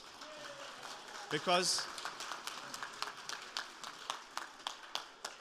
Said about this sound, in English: Let's have a round of applause for that, yes?